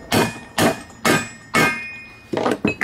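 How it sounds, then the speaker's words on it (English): Hammer blows driving a spacer onto a VW Beetle axle being fitted to a go-kart, four loud, evenly spaced metallic strikes followed by a quicker cluster of lighter taps, close by with no voices. "We're hitting our spacer now."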